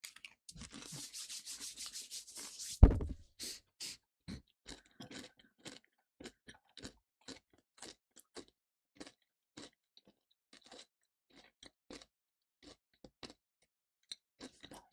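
Close, quiet crunching and chewing of food in a steady run of short crisp bites, after a brief rustle and a sharp knock near the start.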